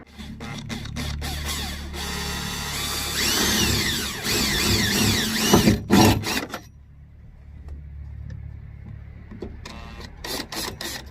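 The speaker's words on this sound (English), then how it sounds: "So we need to drill 2 holes right here where the yellow dots are." A power drill whines steadily as it bores 4mm holes into a vehicle tailgate for a lock kit installation for several seconds, then cuts out, followed by quieter clicks and handling noises.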